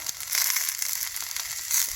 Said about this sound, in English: I'm going to toast them until they get a little charred.